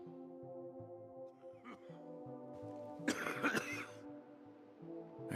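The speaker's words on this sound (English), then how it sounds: "That cough doesn't sound too good." A harsh, close cough bursts out in a short cluster of hacking fits over a steady tonal background hum, with a few faint voice sounds before it.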